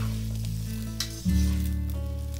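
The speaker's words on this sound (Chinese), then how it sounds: "加入胡萝卜片炒一下" Sliced onion, butter and carrot slices sizzle in a preheated frying pan, a short close burst of steady frying hiss over a low hum, with one brief clink partway through.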